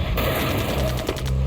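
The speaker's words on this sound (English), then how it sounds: "Somebody's shooting at me with an SLR, it sounds like." SLR rifle gunfire in a video game, a loud burst of repeated sharp reports under dense game noise.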